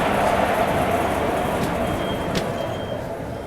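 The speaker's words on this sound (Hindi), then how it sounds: "यही है दोस्तों तीनों लोकोमोटिव्स जो हमारी ट्रेन को पीछे से पुश करेंगे भोर घाट चढ़ने में हेल्प करने के लिए।" Three locomotives pushing an Intercity Express from behind up the Bhor Ghat between Mumbai and Pune, a steady rumbling rail drone with faint clicks and a distant high squeal, fading slightly toward the end.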